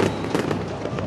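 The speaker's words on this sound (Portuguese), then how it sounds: "E aí os torcedores jogando aí os fogos de artifício." Fans set off fireworks in a Roblox soccer game, a loud, dense barrage of crackling bursts and pops packed closely together without a break.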